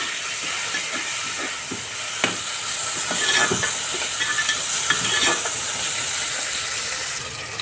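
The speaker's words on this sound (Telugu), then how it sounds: "టమాటా కూడా కాస్త వేగాలి." Tomatoes frying in a pan as a masala pongal is prepared, with a steady sizzle and hiss broken by scraping stir strokes, close up and without talking.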